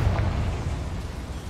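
Confringo blasting spell explosion in the Hogwarts Legacy video game, a loud, close, rumbling blast that fades slowly over a second and a half.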